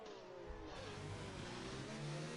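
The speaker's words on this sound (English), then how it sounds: "Some teamwork from the Renaults perhaps coming down the backstretch." Renault racing cars on a fast lap in a racing video game, with a continuous loud engine drone and shifting rev pitch sustained throughout, no pauses.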